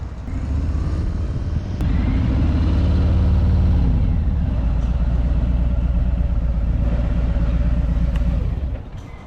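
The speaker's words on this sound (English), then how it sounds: "exhaust on this sounds good right away too" A Harley-Davidson motorcycle runs close by on a non-stock exhaust during Daytona Bike Week, a deep, steady rumble that swells briefly near the start before settling to an even throb and fading at the end.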